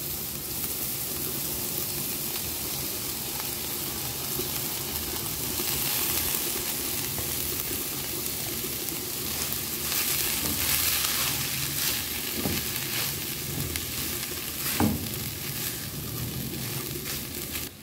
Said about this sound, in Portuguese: Aí já vamos colocar aqui o frango.